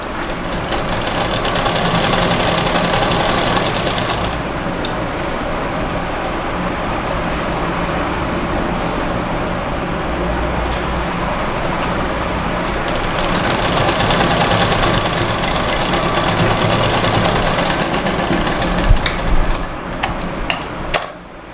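A sewing machine stitches a folded seam on a 7-8 year old girl's frock, running in a steady fast mechanical rattle for most of the stretch with a brief slowdown, then a few closing clicks near the end.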